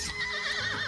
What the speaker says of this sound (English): filling your ears with clanging steel and the neighing of horses